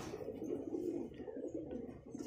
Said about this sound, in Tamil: இது ஒரு ஃபீமேல் பேர்டு